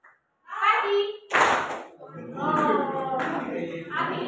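Children clap their hands in a classroom clap chant, with short bursts of clapping mixed in among their chanting voices.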